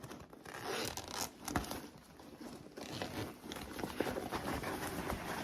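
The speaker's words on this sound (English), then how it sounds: "I am going to open up my zipper pocket here" A bag's zipper pocket being unzipped on a handmade clutch, giving a close, quiet run of ragged zipper rasps with small fabric rustles throughout.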